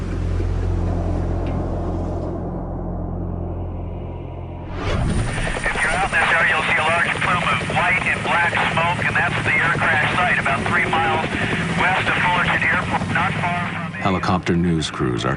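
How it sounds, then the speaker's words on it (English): A low engine drone gives way to a loud, continuous news helicopter rotor chop with steady thumping rhythm over Los Angeles, close and dominant, with voices mixed underneath. "Helicopter news crews are quickly on the scene."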